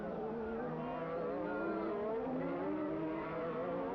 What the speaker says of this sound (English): The number 15 car, driven by Alain Prost in the Renault.